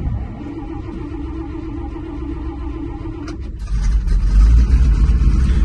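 A 1970 Dodge D500 dump truck, parked for five years, runs with a steady low rumble, then its engine note rises and grows louder near the end, with a few clicks around the change. No one speaks.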